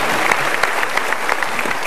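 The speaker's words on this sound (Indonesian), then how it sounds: "Sekali lagi kita berikan tepuk tangan." Studio audience applause on an Indonesian motivational talk show, brisk continuous clapping with crisp individual claps popping out, fairly loud and close, with no voices over it.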